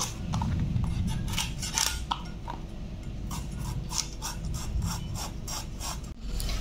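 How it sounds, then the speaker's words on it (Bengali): Ridge gourds being peeled by hand for mung dal, a close run of quick rasping scrapes in an irregular rhythm, loud and alone. "ঝিঙেগুলো আমি ছুলে নিচ্ছি"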